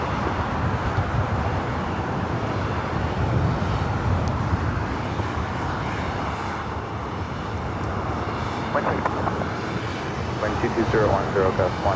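Southwest Airlines Boeing 737-800 jet at LAX, a steady broadband engine roar rumbling continuously for the whole stretch, loud and fairly close, with wind and distant traffic noise blended underneath.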